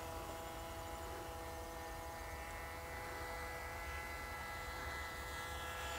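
Brushless multirotor drone with OpenPilot stabilization hovering nearby, giving a continuous steady whine with tonal motor hum that holds level throughout.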